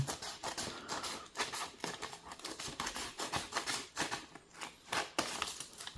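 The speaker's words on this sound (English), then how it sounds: "I'm just gonna cut this open." Postal package being cut open with a blade, a close, quiet run of rapid scratchy slicing and crinkling strokes of packaging material.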